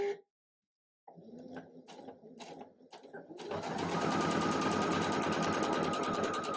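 A bernette b77 home sewing machine stitching a quilt label gives a few quiet clicks and mechanical ticks, then runs into a loud, steady, close stitching whir that continues to the end.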